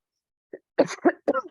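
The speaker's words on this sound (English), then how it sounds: "I'm getting over a cough" A short throat sound, then a few rough coughs in quick succession, close and fairly soft, with no talking.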